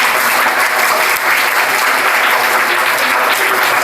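Loud, dense applause from a school audience at a magic show, steady throughout with no one speaking.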